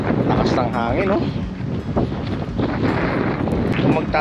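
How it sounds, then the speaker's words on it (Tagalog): Strong wind roars and buffets the microphone with a constant low rumble at a campsite in Botolan, Zambales, while a voice talks over it. "Lakas ng hangin, no?"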